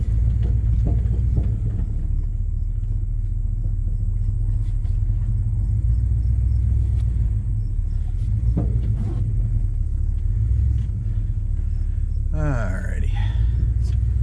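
A 1976 Chrysler Newport, started for the first time in eight years, idles and creeps forward with a deep, loud, steady engine rumble, while people talk quietly beneath it and a squeal sounds near the end.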